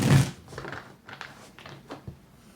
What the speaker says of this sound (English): Let's do one more shuffle and get this out.